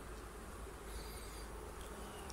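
Honeybees working a brood frame of stored bee bread in an open hive, a steady close-up buzz that fills the clip without a pause and with no talking.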